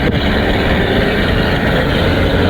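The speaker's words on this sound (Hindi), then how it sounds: "इंजन की आवाज़ बहुत ज़्यादा है" A car engine runs loudly and steadily from inside the vehicle, a dense low rumble with constant level and no talk over it.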